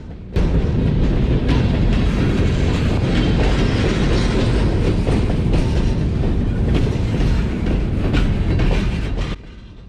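A long CSX local freight train hauled by EMD locomotives, including a rebuilt GP40-3, rolls past close by in Decatur, Alabama, with a steady loud rumble and clickety-clack of wheels that runs nearly nonstop before dropping off at the end.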